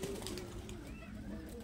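A pair of Laldom pigeons, a male and a female, give soft, low cooing calls against steady background noise, continuous and close by for the whole short stretch.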